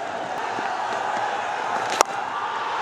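A cricket crowd in an ODI between Afghanistan and Bangladesh roaring after a big hit for six, a steady broad wash of distant cheering with one sharp bang partway through.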